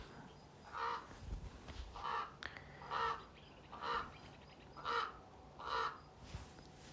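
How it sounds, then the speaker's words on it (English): Ravens caw six times at a steady, evenly spaced rhythm, moderately distant and fairly faint over quiet outdoor background at Rowher Flat OHV riding area. "Big old ravens squawking outside."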